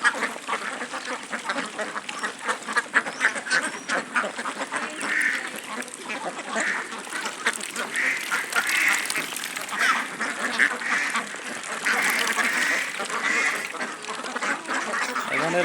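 A flock of about a hundred native domestic ducks feeds at close range, with dense, continuous overlapping quacks and dabbling throughout; no talking.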